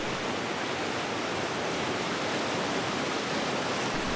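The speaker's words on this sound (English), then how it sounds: "And I love that flowing water." Flowing water of a stream rushes in a steady, broadband wash, constant and fairly close, with no voices.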